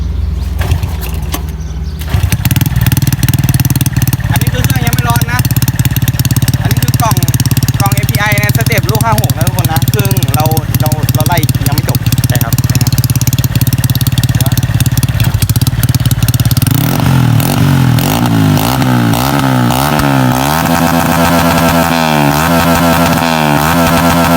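A two-valve 150cc motorcycle engine roars loudly and continuously close by, its pitch rising and falling through several revs toward the end.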